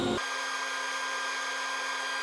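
Belt grinder with a leather-backed soft platen grinding a blade bevel at low speed, a steady whirring hiss with a constant motor hum after a brief start.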